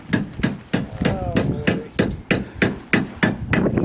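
A hammer pounds a piece of lead into shape at an RC plane flying field, about ten sharp, loud, close strikes in a steady rhythm, with a brief voice in between.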